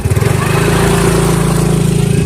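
Motorcycle engine running close and loud, a rough, pulsing mid-pitched putter with a steady throbbing rhythm, heard without talk.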